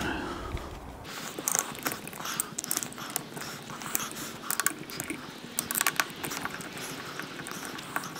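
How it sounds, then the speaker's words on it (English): A ratchet works at the bolts on a Flatfender fuel pump, bursts of quick clicking and metallic scraping in an irregular rhythm, close up with no talk. "What we're gonna try and do is remove these 6 bolts."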